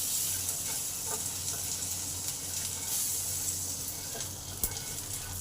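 Curry leaves, black and white cumin, mustard and chillies fry in oil with a continuous bright sizzle and crackle, plus occasional pops and soft stirring sounds, with no talk.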